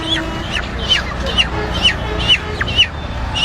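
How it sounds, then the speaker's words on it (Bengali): Chickens clucking in a repeated series of sharp calls about every half second, near and fairly loud over faint background murmur and noise. "মুরগি"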